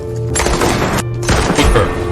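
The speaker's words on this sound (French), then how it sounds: "C'était le tout premier essai de l'AK-47." An AK-47 rifle at its first test firing: two sharp, loud reports with a short gap between them, each followed by a brief ringing decay.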